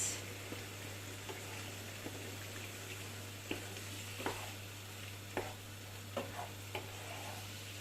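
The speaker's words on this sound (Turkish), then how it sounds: "Güzelce karıştırdım" A spoon stirs a chicken and mushroom dish with grated tomato in a pan, giving soft scraping knocks against a steady low sizzle and hum, close and quiet, with no talking.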